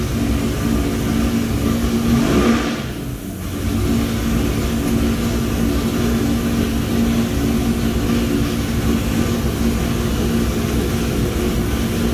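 An engine fitted with a Holley carburetor runs hard and continuously during a dyno pull, a loud sustained roar with a brief dip early on before it holds steady at full volume.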